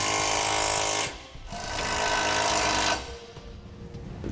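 Power tool snugging down trailer hitch hardware on a 2017 Subaru Crosstrek, loud rattling impact-style bursts in two long runs with a brief pause between, then trailing off to a lower hum.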